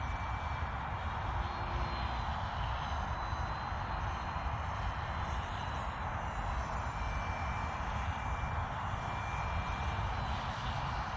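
A simple homemade foam model plane in flight, its small electric motor giving a constant, loud buzzing drone that holds steady throughout with no speech.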